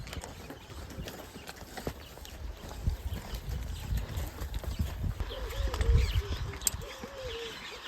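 Horses walk on a Botswana horseback safari, hooves clip-clopping in a loose, steady rhythm at moderate distance, with birds chirping and cooing in the background.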